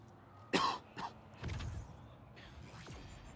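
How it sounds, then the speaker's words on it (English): A single sharp cough bursts out, followed by a smaller second one and a low rumbling throat sound, close and fairly loud against a quiet background. "is muting the wrong microphone as he coughs"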